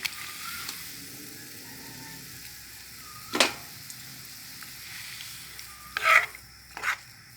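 A spoon stirs chicken and seasonings in a pan of simmering red curry paste and coconut milk, a low bubbling hiss with a few sharp scraping strokes against the pan.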